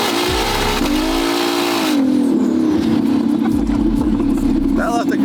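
A twin-turbo Ferrari F12 pulls away hard, its engine note climbing and dropping through a gear change and then holding a loud sustained drone as it recedes, with voices over the car.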